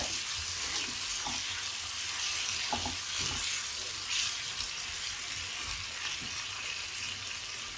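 Tomatoes dropped into a pan of well-fried chillies for a quick chutney give a steady, fairly loud sizzle throughout, with a few clinks and stirring knocks and no talking.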